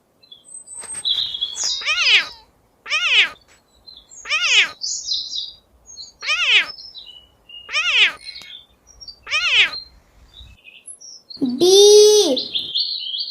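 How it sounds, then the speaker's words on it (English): A cat meows once near the end, a single clear drawn-out call following a run of short repeated chirping calls, all close and fairly loud. "C for cat."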